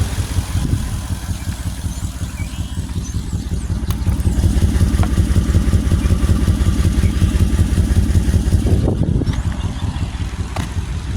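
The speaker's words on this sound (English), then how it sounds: "The only pulses that I hear right now is the exhaust because it's got an exhaust sleeve." Infiniti Q45 V8 idling with an exhaust sleeve, steady low rumbling exhaust pulses running continuously at close range, with a brief clunk near the end and no talking.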